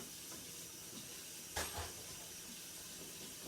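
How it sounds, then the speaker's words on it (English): A tap runs in a steady, faint hiss while a cutting board is rinsed under it in a kitchen, with one brief clunk of handling partway through. "I'm just washing this cutting board so I can cut up the celery next."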